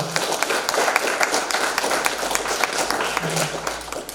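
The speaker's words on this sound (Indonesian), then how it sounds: "Kita tepuk tangan dulu untuk panitia kecil" Applause for a small organising committee at a basic leadership-training meeting: a room of people clapping steadily and fairly loudly, with scattered sharper claps throughout.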